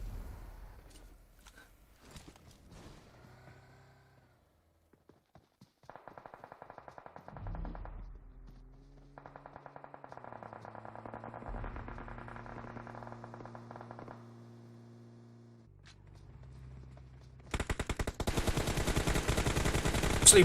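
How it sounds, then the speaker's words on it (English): Sustained automatic gunfire erupts in an esports shooter match between two pro teams, rapid dense bursts building into a loud, continuous barrage near the end, with game effects and tonal hums earlier. "Barrage of fire here from Game Over onto Barbie from Unicorns of Love."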